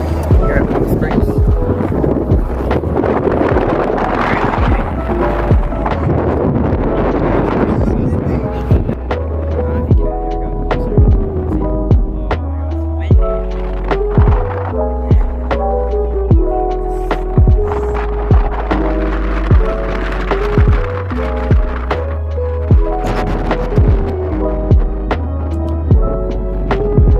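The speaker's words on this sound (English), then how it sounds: "We're here in a wind turbine farm here at Palm Springs" At a wind turbine farm near Palm Springs, a loud low hum and throbbing drone mixes with microphone wind buffeting, and a voice speaks over it partway through.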